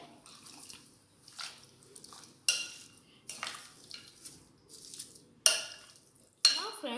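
Chicken being mixed with cumin powder, red chili powder and garam masala in a bowl, heard as wet squelching and clinks of utensil against dish in irregular bursts with short pauses, close and fairly quiet, no voices.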